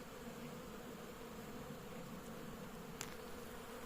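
Honeybees hum steadily on a hive frame during a winter inspection, a low, even, continuous drone up close with one brief sharp click near the end.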